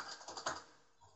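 A short burst of typing on a computer keyboard while entering a router password, a few quick close clicks in the first half second, then near silence.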